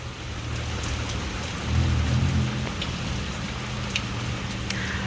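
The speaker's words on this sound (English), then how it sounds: "you can probably hear the thunder in the background." A powerful thunderstorm with hail and flooding, steady heavy rain pattering on surfaces with a low rolling rumble of thunder swelling in the middle and fading, continuous throughout with no talk.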